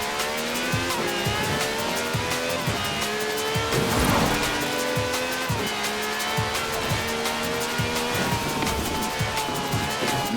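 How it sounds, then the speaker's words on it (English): A V12 car with over 750 horsepower does a rolling burnout in Forza Horizon 4, its engine revving hard under sustained tire squeal with rhythmic pulses, loud and close. "the Stig's warming up the tyres. A good old-fashioned rolling burnout."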